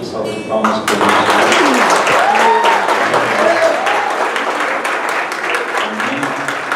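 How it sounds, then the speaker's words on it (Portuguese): A church congregation breaks into sustained, dense clapping that swells and holds for several seconds, with voices calling out over and among the applause in a reverberant hall. "Salve de palmas para Deus."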